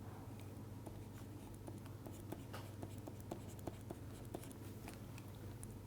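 A pen or chalk writes out a physics partition function, giving soft, close scratches and small taps in a quick irregular rhythm over a low steady room hum.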